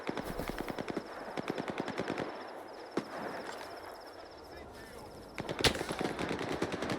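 Gunfire in the video game Stalker 2 comes as rapid automatic bursts of rattling shots, several volleys separated by brief pauses, with a loud single crack near the end.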